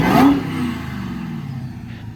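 A Hellcat-engine-swapped Chrysler 300 lets out a loud, brief rev at the start, then a steady, high supercharger whine carries on under the engine's drone.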